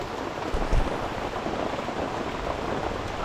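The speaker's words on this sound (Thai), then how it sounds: "ฝนก็ได้ตกลงมาครับอย่างหนักนะครับ" Heavy rain pours down steadily on a forest shelter roof during the rainy season, a dense, continuous hiss with a brief heavier patter near the start and no talking.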